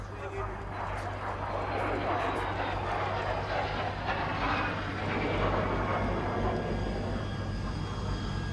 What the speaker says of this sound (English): there's the MiG-15